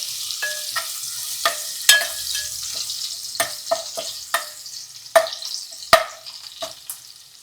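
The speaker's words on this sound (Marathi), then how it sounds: "आणि त्यामध्ये टाकतो आपण लसूण. आता लसूण चांगलं गोल्डन होऊन द्यायचं." Garlic frying in oil in a pan until golden, a close crackling sizzle broken by sharp scraping knocks of a spoon stirring at irregular intervals, with no talk.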